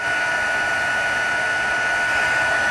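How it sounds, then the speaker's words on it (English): A hair dryer blows on its high setting for heat embossing a handmade card, giving a constant loud, close whine and rushing airflow from start to finish. "you can use a hairdryer on the high setting"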